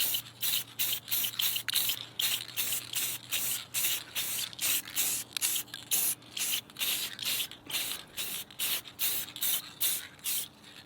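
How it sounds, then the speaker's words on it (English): Spray can laying down a matte clear finish on a gun, a steady series of short, loud hissing bursts, roughly two per second, close up with no talking. "Couple test sprays."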